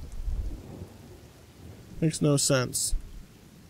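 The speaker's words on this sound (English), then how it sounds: "Why is it raining?" Rain and thunder in The Forest survival video game: a low rolling rumble with a steady rain hiss fills the first part, then someone speaks briefly over the quieter storm.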